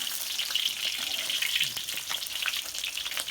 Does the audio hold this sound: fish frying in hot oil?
yes